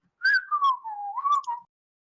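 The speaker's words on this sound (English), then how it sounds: "Just whistling away." A person whistles a short, wavering tune of several gliding notes, clear and close against silence.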